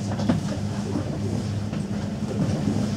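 A purple train rumbling past in Helsinki, Finland, with a steady low roar and faint rhythmic clatter, loud and close throughout.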